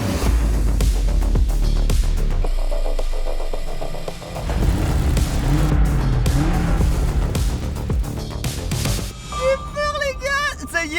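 A drift car driven hard with tires squealing, heard from inside the cabin: a loud, continuous engine roar with screeching tire skids, rising and falling throughout and swelling into a sharper squeal near the end.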